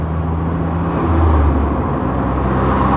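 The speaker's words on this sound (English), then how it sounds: "Can hear the gear changes going through, slow as they are" Smart Crossblade open car driving on wet roads in rain, a steady loud engine drone and road hiss throughout with a slight shift in engine pitch partway through as a gear change goes through.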